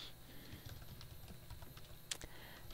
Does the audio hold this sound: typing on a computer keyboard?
yes